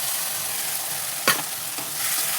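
Spice paste hits hot oil and fried onions in a pan, giving a steady loud sizzle with a sharp crackle as it lands and brief scraping stirs.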